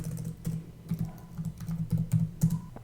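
Keys clatter on a computer keyboard as a conda install command is typed, with quick irregular keystrokes and short pauses, close and fairly quiet.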